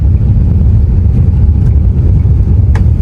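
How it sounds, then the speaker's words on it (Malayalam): Constant low engine rumble and hum of an Emirates airliner rolling along the runway after landing in Seoul, heard from inside the cabin, steady with no voices. "നമ്മുടെ റൺവേ കൂടെ പോവുകയാണ് കേട്ടോ"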